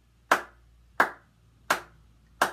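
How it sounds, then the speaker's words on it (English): Four sharp hand claps land evenly about 0.7 seconds apart, keeping a steady pulse for a sung song, each crisp and close with a short decay and nothing else heard between them. "we're going to clap the pulse that we talked about earlier in our hands"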